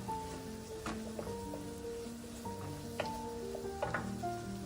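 Dried mustard being stirred into chicken frying in a pan, a steady close sizzle with scattered utensil scrapes and clicks throughout.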